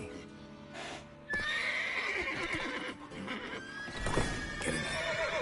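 Horses in The Witcher 3 let out loud, shrill whinnies over the clatter of their hooves, with several neighs overlapping and a louder burst near the end.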